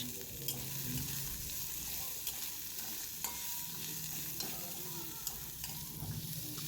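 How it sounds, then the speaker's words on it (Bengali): Chopped onion fries gently in a pan with a little oil for a mixed vegetable curry, a continuous close sizzle broken by regular light clinks of a spoon stirring. "পেঁয়াজটা একটু হালকা ভেজে নিচ্ছি।"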